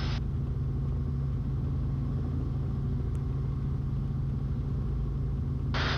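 A Robinson R-44 helicopter's engine and rotor make a steady, close droning rumble that holds at an even level throughout, with no voices.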